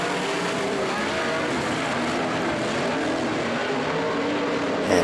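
A pack of 360 sprint cars roars through a heat race in a continuous, moderately distant engine drone that holds steady throughout, with no speech.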